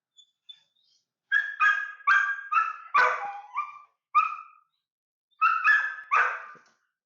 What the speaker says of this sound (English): I'm okay with the barking.